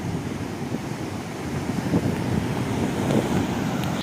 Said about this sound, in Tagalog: pakinggan natin yung natural sound of the waves